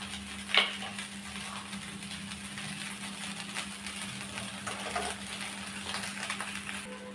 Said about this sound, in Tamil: இப்போ இதில் நம்ம பொரிச்சு வச்ச சிக்கன் சேர்த்துடலாம்.